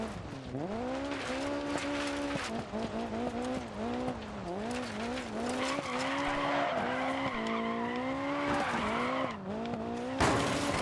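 A rally car in DiRT 4 skids and slides loudly and continuously for about eleven seconds, its engine whining and tires squealing as the rear-drive car loses grip, with no talking.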